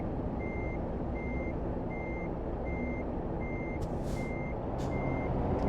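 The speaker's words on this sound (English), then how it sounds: "I want to try backing the trailer over to the side to get a little bit better angle." A truck in American Truck Simulator backs up its trailer, its reversing alarm giving seven evenly spaced electronic beeps over a steady diesel engine rumble, with a couple of short hissing bursts near the end.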